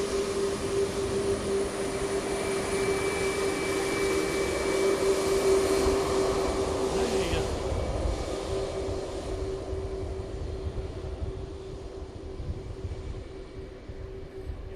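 Boeing P-8 Poseidon military jet at Boeing Field, a steady broad engine roar with a droning tone, holding loud for most of the stretch before easing slightly toward the end.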